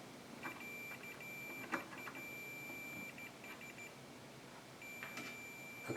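A multimeter continuity beep sounds while testing pins on a Bally-35 solid-state pinball board with alligator clips, a steady high tone that cuts in and out in several short bursts over a quiet background.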